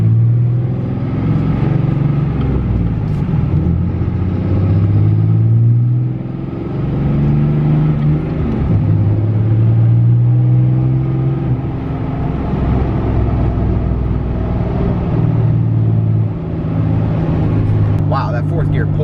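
A tuned lifted truck pulls hard through its gears into a strong fourth-gear run, a loud, steady engine drone rising and shifting in pitch throughout, heard close from inside the cab.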